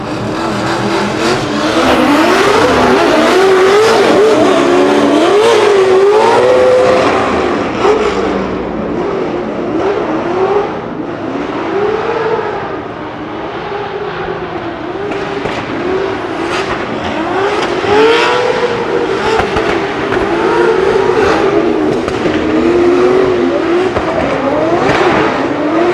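Drift cars at a Drift Masters practice session in Germany, engines revving hard and continuously for about 26 seconds, loud and close, with pitch swinging up and down as the cars slide through the run.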